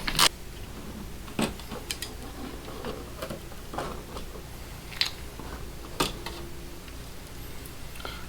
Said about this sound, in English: We're going to unscrew the outlet.